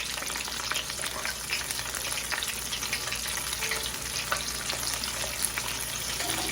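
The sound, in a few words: shrimp coated in cornstarch frying in oil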